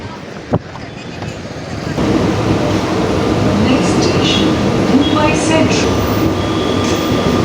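A Mumbai local train at Churchgate station gives off a steady loud rumble and rattle that swells after a sharp knock, with faint squeals and station noise throughout.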